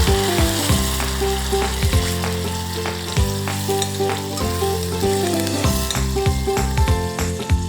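Onion gravy fries in hot oil, a loud, steady sizzle throughout with occasional clinks of stirring against the pan and a faint tonal hum beneath.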